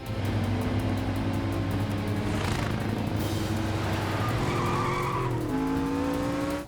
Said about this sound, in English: slams on his brakes, and just throws a 180 right in front of the semi